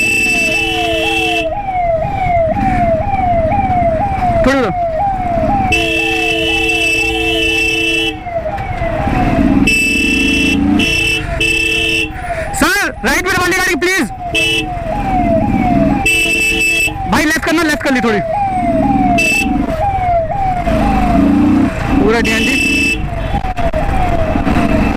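Loud ambulance sirens wail and yelp continuously through heavy traffic, several siren patterns overlapping, with occasional horn blasts and brief shouting.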